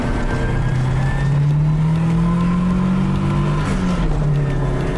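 A Volga car on a rally timed run accelerates with a loud, steady engine roar whose pitch slowly climbs and wavers, heard close with no talk over it.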